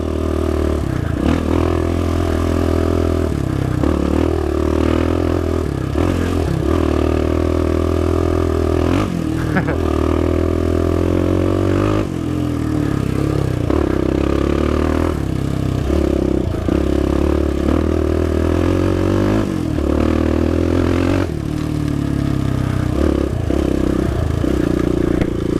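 A Suzuki LTZ400 Quad Sport engine revs hard under throttle, its pitch rising and falling continuously for the whole stretch, loud and close, with occasional clatter.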